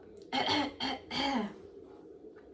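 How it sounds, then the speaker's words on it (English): Three quick, light coughs in a row, close and fairly soft, followed by quiet. "So my next symptom is a small tickly cough."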